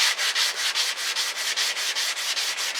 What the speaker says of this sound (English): I like to sand it till it's all sort of this sanded look